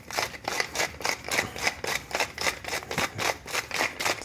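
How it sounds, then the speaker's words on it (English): Salt grinder cracking salt over a mound of semolina for pizza dough, a steady run of close, crisp gritty grinding pulses, about a dozen rhythmic crunches. "I'm gonna crack some salt in."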